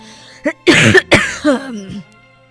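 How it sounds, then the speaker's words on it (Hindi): Several harsh coughs in quick succession close to the microphone, followed by a short vocal sound trailing off. "बहुत खांसी आ रही है"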